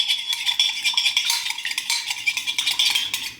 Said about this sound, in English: we're going to beat the eggs over here